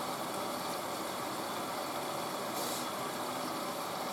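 A newly bought washing machine spinning up toward 800 RPM, giving off a steady, fairly faint mechanical whir and hum with broadband noise and no talking.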